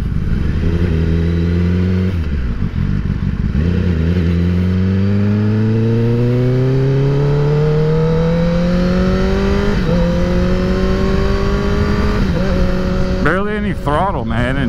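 A 2021 Kawasaki ZX10R motorcycle engine pulls hard through several rising gears, each shift followed by a steady climb in pitch, loud and close with wind roar throughout.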